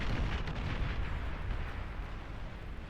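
Heavy bombing in the strategy game Beyond All Reason, as an air strike pounds T3 units in a canyon, producing a dense, continuous roar of overlapping explosions and rumbling booms, loud and close throughout, with no talking.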